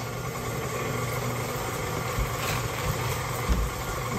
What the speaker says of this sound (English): I bought this meat grinder to do the fat to render it down